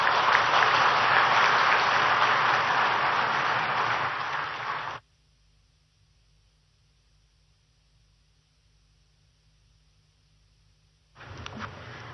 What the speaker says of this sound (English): Can we have a huge round of applause for the Honorable Chief Minister, sir?